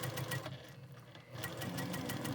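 Sewing machine running steadily as it stitches a four patch quilt block, a close mechanical whir with rapid needle pulses that dips briefly and resumes.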